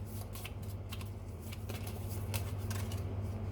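A tarot card slid out of a deck by hand, soft papery rustles and quick flicks close by, light and brief with no one speaking.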